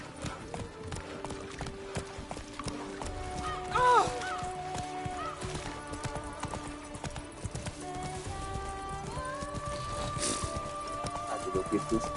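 Witcher 3 horse Roach galloping with steady clip-clop hoofbeats throughout and a few whinnies and neighs, set against a game soundtrack with voices speaking over it.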